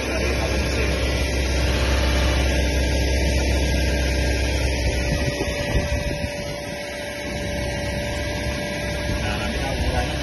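Petrol engine of a Toyota Innova held at a steady 2000 RPM, a constant loud drone and hum filling the whole stretch with no talk, dipping slightly near the end.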